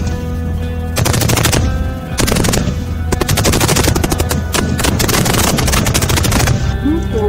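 Loud, sustained machine-gun fire from an Indian Army firepower demonstration at the Pokhran field firing range. Long rapid bursts follow one another with brief gaps, with some talk faintly beneath.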